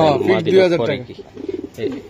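Racer pigeons coo in a rolling, low burble that fills the first second, followed by softer, intermittent coos, with a voice talking alongside them.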